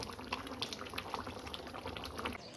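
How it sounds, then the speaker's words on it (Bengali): Curry broth boiling in a pot bubbles and pops steadily, a soft, close churn of liquid with small bright blips scattered throughout. "রান্না শেষ, ঝোল পুরো ফুটছে"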